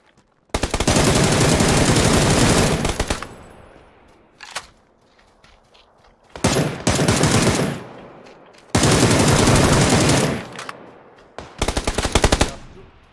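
Bursts of automatic rifle fire from a Beryl in a shooter game, four long sustained volleys with short gaps and a few single shots between, loud and close.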